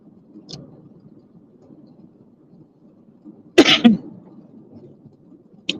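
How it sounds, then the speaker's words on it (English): A single dry cough bursts out sharply, close and loud, over faint low background rumble, with a small throat noise shortly before. "I've had a dry cough for about, I don't know, since Friday"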